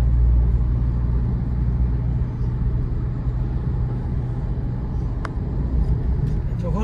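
A car cruises along national highway NH-17 near an army cantonment, giving a loud, steady road rumble and engine drone from inside the vehicle, with a brief higher tone near the end.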